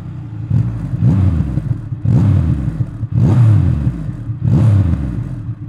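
A 2023 Triumph Rocket 3R muscle motorcycle with a twin exhaust fed three-into-two, revved four times in even bursts, each a loud throaty swell that falls back before the next, close and with no talking.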